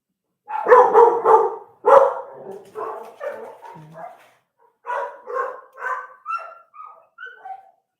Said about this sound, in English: My dogs are so excited to see people on the other side. They're just going nutsoid.